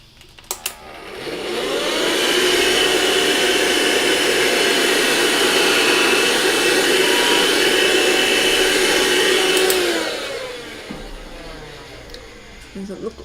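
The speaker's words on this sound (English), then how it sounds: "Okay, so vacuum cleaner here." A vacuum cleaner starts up close, roars with a loud, steady whine for about eight seconds, then winds down and stops.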